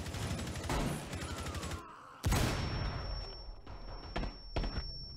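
Video game gunfire, a rapid stream of shots that stops abruptly, then a loud heavy blast followed by scattered thuds and a high ringing tone.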